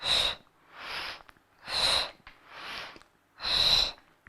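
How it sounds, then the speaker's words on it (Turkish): Three strong, forceful exhalations through the nose alternate with softer inhalations in a steady rhythm during a pregnancy pilates arm-pushing exercise; the breaths are close and clear with no talking. "İttirirken nefes veriyoruz."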